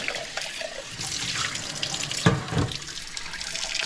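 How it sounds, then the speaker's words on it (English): Cold water gushes steadily from a tap into a sink for several seconds, a loud continuous splashing stream with a brief louder burst partway through. "See if we can get some cold water out of this."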